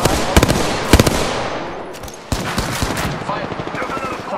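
Gunfire in a first-person shooter video game: sharp, loud shots in quick pairs and bursts, close up, with a pause near the middle before another rapid volley. Voices talk through the action.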